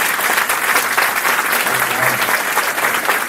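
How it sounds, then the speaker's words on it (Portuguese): Steady applause from an audience at a training event, dense clapping holding at an even, fairly loud level throughout with no voices on top. "Uma salva de palmas para ele"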